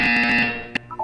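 A loud buzzer from the video game Portal 2 sounds once as a steady tonal blare that cuts off sharply, followed by a few short electronic blips.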